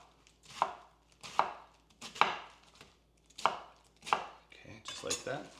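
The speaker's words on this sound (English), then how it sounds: "I'm gonna go ahead and cut these into about 1-inch pieces roughly" A knife chopping cabbage into roughly 1-inch pieces on a cutting board, seven distinct crunchy chops at an even, unhurried pace, close and clear against near silence.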